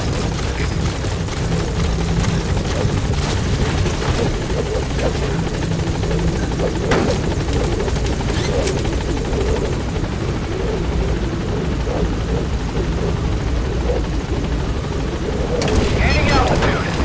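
Helicopter in the video game Metal Gear Solid V lifting off from a landing zone. A loud, continuous rotor thump and turbine whine hold steady throughout, with a brief radio voice over it.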